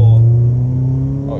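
Mercedes 190E engine at full throttle during a test drive, a loud steady drone from inside the car, climbing gradually in pitch with a throaty low hum throughout.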